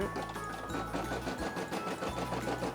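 A Brother SE600 embroidery machine stitching Baby Shark teeth, a rapid steady mechanical needle chatter with a low motor hum that pauses briefly midway, quiet and without talk.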